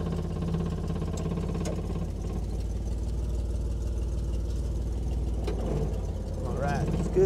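A Willys Jeep engine idles steadily and close as the vehicle is put into reverse, a low continuous rumble with a short rise in engine note near the end.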